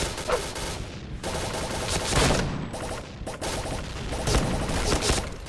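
Rapid bursts of shotgun fire in a video game, loud blasts repeating in quick succession with short gaps.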